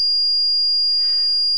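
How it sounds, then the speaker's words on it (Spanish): A Paradox security alarm sounds a loud, piercing continuous electronic tone after the entry delay expires, with a faint rustle partway through. "Vemos que se produce la alarma"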